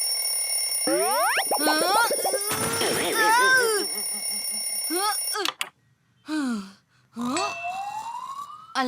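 A ringing alarm clock in the animated series Chikoo aur Bunty, loud and persistent, mixed with whistling, warbling cartoon sound effects and brief pauses.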